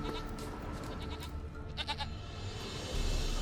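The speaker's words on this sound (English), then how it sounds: "Here, goat." A goat in The Witcher 3 gives a short, wavering bleat mid-clip over a dense bed of game ambience and music.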